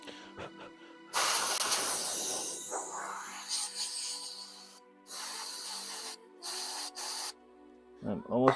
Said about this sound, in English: I'm almost out of compressed air too.